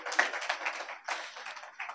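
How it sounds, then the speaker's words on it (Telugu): A church congregation claps hands together at a first birthday celebration, a quick flurry of light, crisp claps in two short bursts with a brief break between them. "చప్పట్లు కొట్టండి ఒకసారి."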